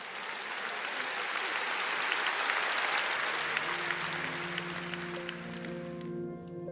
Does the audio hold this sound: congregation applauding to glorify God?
yes